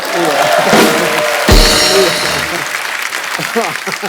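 Loud studio audience applause at a Hindi comedy talk show, a broad clapping wash running the whole stretch with voices talking over it.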